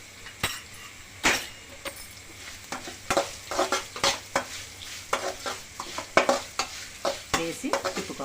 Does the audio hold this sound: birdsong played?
no